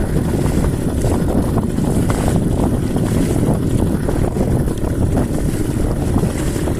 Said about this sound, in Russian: Вот такие вот волны, ребята.